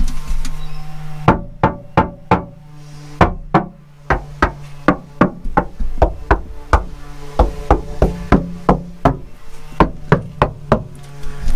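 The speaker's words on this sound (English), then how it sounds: "to knock on the back wall and the floor" Knuckles knock on the bare back wall and floor of a car, a long series of loud, hollow, close thuds coming in irregular quick clusters with no talk.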